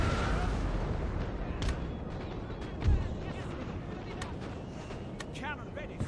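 Cannon artillery fires in the Napoleon: Total War video game, with rolling distant booms and one heavier thud amid battlefield noise. Voices shout faintly beneath the gunfire.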